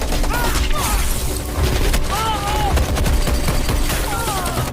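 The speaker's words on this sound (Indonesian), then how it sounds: "tembakan tidak ada henti-hentinya dari pihak lawan" Relentless gunfire from an enemy force in a chaotic war film battlefield scene, dense overlapping volleys and booms running continuously and loud, with wavering tonal cries or music threaded through.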